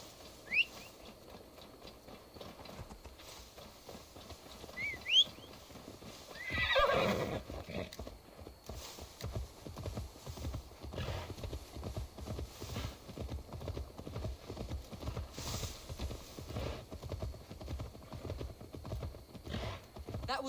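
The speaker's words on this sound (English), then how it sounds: "Now to deliver Magni his horse." Steady clip-clop of hooves trots along at a regular pace, with a horse whinnying briefly early on, all with a synthetic quality, in the video game Assassin's Creed Valhalla.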